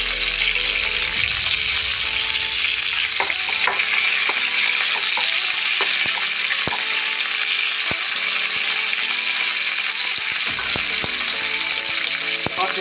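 Mustard seeds and curry leaves sizzle loudly in hot coconut oil, a steady dense crackle with scattered sharper pops from the seeds, close and continuous throughout.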